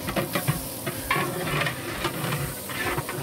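Sliced green chilies fry in oil in a large pot of chicken fry, a quiet soft sizzle mixed with scraping stirring clatter throughout.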